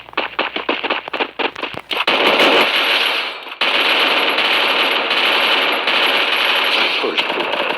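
Video game gunfire fills the clip, starting with rapid separate bursts and building into a loud, dense, continuous rattle of shots that runs to the end.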